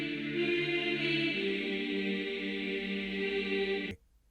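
A sustained choral vocal pad in a music track holds steady for about four seconds, then cuts off abruptly, leaving near silence.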